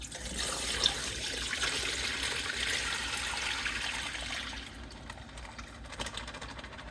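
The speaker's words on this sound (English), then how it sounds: "I just poured the rest of the evaporust into here so I didn't lose it to leaking Ziploc bags anymore" Evapo-Rust rust remover is poured into a container, giving a steady liquid trickle and splash for several seconds before it tapers off into quieter handling noises.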